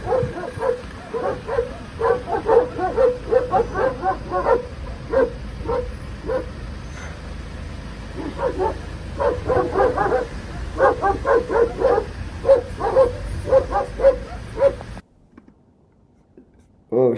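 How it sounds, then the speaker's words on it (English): Several dogs bark in rapid bursts, some nearby, some farther off, with yips mixed in, before the sound cuts abruptly to near silence. "Listen to this. Dogs are here."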